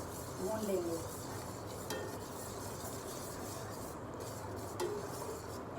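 Semolina roasts in a pan for a sweet root prashad while a spoon stirs it in soft, faint scrapes over a low steady hiss, with a few light clinks.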